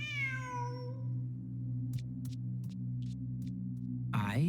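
A cat meowing in Genshin Impact: one drawn-out meow opens, then a second rising meow near the end, both over a low steady musical hum with faint soft ticks between.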